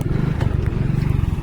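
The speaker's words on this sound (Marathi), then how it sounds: "आता आम्ही पण चाललोय 2 व्हीलर वरून" A two-wheeler motorbike carries riders along a road near Atpadi, its engine a steady, close low drone with a fast pulsing throb and light clatter throughout, with no talk.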